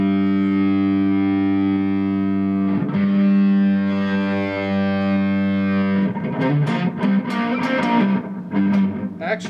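Electric guitar played through a single Gjika tube amp and cabinet, a sustained distorted chord ringing loud and thick, then broken into a burst of faster picked notes toward the end.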